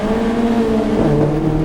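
A race car's engine runs hard on a track, a loud, steady buzzing drone near the microphone whose pitch drops partway through and then holds lower, with no talking.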